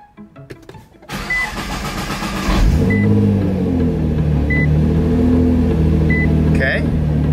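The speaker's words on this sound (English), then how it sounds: "Now I'm going to go ahead and start the car," Nissan R35 GT-R with a stage one map starting up: starter cranking, then the engine catches and settles into a steady, loud idle.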